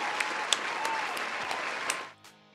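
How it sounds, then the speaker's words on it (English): Steady applause from a small group right after a song, rising briefly in sharp claps before cutting off and fading quickly near the end. "Round of applause."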